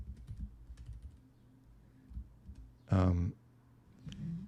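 Someone typing a short phrase on a computer keyboard, with light clicking keystrokes, one louder burst partway through, and a voice heard briefly.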